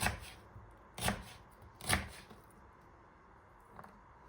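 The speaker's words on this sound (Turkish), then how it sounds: "Karpuz kabuklarımı şerit halinde kestim. Minik minik doğruyorum." A knife chops strips of firm watermelon rind into small cubes on a board, three crisp, evenly spaced cuts followed by a faint fourth tap, close by in a quiet room.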